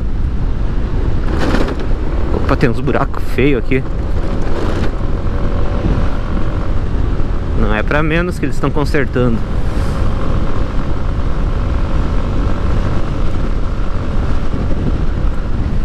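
Ride on a 2012 Dafra Citycom 300i scooter-style motorcycle over a road with ugly potholes near repair work, with a steady engine and wind drone throughout while a rider talks over it.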